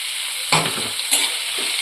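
Onion, capsicum, ginger and garlic sizzling in a hot pan, with two or three distinct scrapes of a spatula stirring them, close up.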